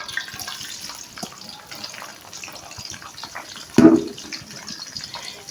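Onions go into plenty of hot oil in a kadhai while chickpeas with egg are being cooked. A soft background hiss gives way to a sudden close sizzle burst, and a second burst follows near the end.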